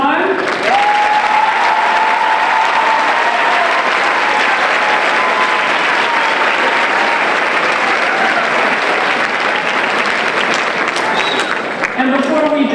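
A large audience at a high school hall of achievement ceremony breaks into long, loud, sustained applause for the inductees, steady clapping filling the room for over twelve seconds, with a brief spoken voice near the end.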